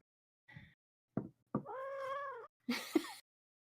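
A cat bumps into a microphone with a few sharp close knocks, then gives a drawn-out meow, followed by a louder rustling bump.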